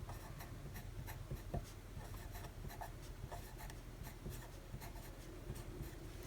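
A very old calligraphy-tipped fountain pen scratches across heavy 80lb paper in a steady, close, soft run of strokes with small ticking catches, quiet and continuous with no talking.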